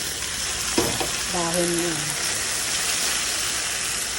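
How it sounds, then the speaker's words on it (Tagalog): Water spinach (kangkong) sizzling as it is sautéed with onion and garlic, a steady loud frying hiss with stirring clatter near the start and a brief voice speaking over it. "Ginisa lang sa sibuyas saka sa bawang"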